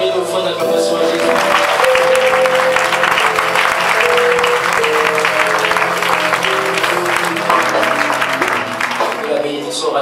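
Church congregation applauding for Jesus during a worship service, loud sustained clapping and cheering over held musical tones, continuous throughout.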